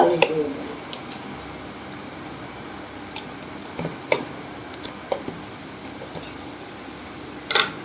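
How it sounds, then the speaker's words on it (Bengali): A spoon clinks lightly against a bowl while jute leaf fritter batter of gram flour and rice flour is mixed by hand, with faint, sparse taps and scrapes over a quiet room hum. "আর দুই চামচ চালের গুঁড়ো দেবো দিয়ে ব্যাটারটাকে মাখবো"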